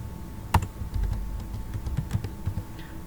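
Keys on a computer keyboard clatter in a quick, uneven run during data entry in Microsoft Excel 2016, with one sharper tap standing out near the start; close and moderately quiet, with no talking.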